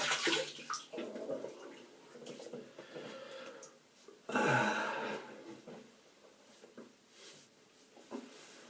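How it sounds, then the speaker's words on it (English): Water splashes as a face is rinsed at a basin before a wet shave, soft irregular sloshing close by with a heavier splash midway and audible breathing between handfuls. "I'm just going to rinse my face"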